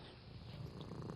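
A low, steady purring rumble close by, soft and continuous, with no voices.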